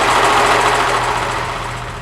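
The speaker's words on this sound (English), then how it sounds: "So I just serge the raw edges of the blue because it likes to fray" Serger overlocking the raw, fray-prone edges of blue taffeta fabric, a steady high motor whir with fast mechanical chatter that holds evenly and tapers off slightly toward the end.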